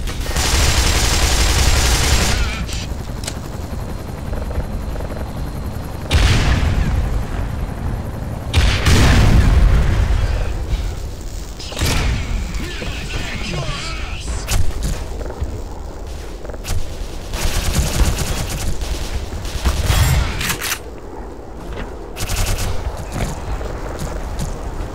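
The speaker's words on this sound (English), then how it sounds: "You have grunts shooting at you." Repeated bursts of gunfire from hostile grunts in Black Mesa, loud cracks and booming volleys spread across the stretch with short gaps between, close and harsh, with no talk over them.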